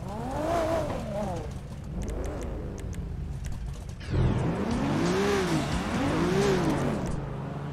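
A video game car with a 1JZ engine revs repeatedly, pitch rising and falling in sweeping waves, with mechanical whine over a steady low rumble, loud and close.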